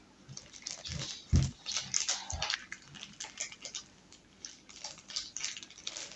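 Soft, irregular clicking and scratching of a dog's claws on a parquet floor, close by, with a few duller thumps and a faint background hiss.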